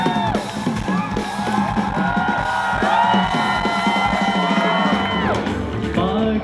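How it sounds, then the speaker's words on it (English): A rock concert crowd at a South Asian bands festival cheers and whoops loudly and steadily, with voices shouting over live sitar and guitar music throughout. "the crowd cheering and swaying to the tunes of the sitar along with the guitar"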